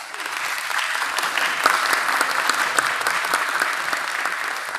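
A council meeting audience applauds with dense, steady clapping from many hands in an indoor chamber, sustained at an even level for the whole stretch with no voices over it.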